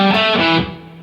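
A distorted electric guitar plays a short phrase from a song's solo, a sustained bent note that rings out loudly and then fades, with no talking.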